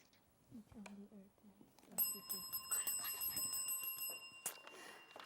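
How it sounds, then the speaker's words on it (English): A ringing bell marks the end of a junior schools quiz match between Linstead Primary and Portsmouth Primary, sounding a sustained metallic ring for a couple of seconds after brief talk, then cutting off. "that bell signifies the end of the match"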